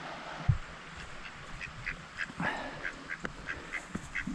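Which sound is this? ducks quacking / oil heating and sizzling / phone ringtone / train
ducks quacking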